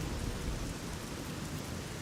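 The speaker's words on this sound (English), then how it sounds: "There we go. Harder rain." Heavy rain from a thunderstorm in Fallout 3 pours steadily as a dense, even hiss with a low rumble of thunder underneath, no voices.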